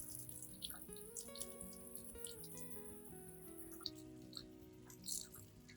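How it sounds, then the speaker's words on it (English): Water runs from a tap in a gentle, steady stream, splashing and trickling with shifting tones as it flows over the base and roots of an orchid. "Allow the gentle stream of water to flow over the entire base and root system"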